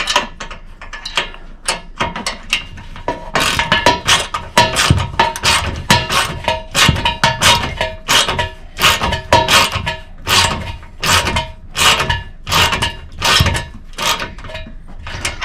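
Ratcheting clicks in steady rhythmic bursts as a 3/16 Allen wrench tightens a bolt on a Jeep 4XE during a Slipstream install, close and fairly loud with no talking.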